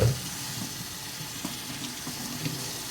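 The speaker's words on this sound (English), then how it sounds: "all you're gonna do is rinse and place" Produce being rinsed under a running kitchen tap while preparing fruit and vegetables for a Breville juicer, a steady close wash of flowing water with small splashes and no voices.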